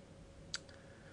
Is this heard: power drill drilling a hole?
no